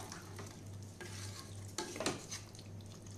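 Mutton bone curry with pepper powder stirred in a pan: a soft ongoing sizzle with a spoon scraping and stirring, the scrapes growing sharper and louder toward the end.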